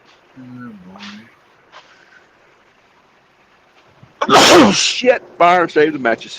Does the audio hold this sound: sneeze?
yes